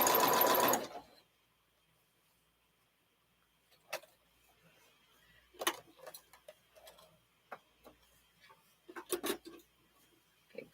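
A sewing machine stitches fabric in one loud, rapid whirring burst of about a second. It then falls silent, leaving only scattered soft clicks and taps of handling.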